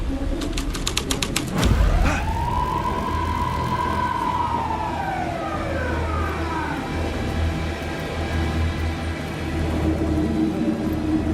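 Police car siren in Alan Wake 2 rises and slowly falls in a long wail after a burst of rapid clicks, set over a low rumbling background.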